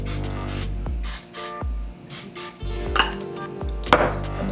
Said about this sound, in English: I'm gonna spray a little butter on it